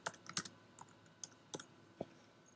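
Quick bursts of typing on a computer keyboard, a few clustered keystrokes followed by isolated clicks, close and fairly quiet with no voices.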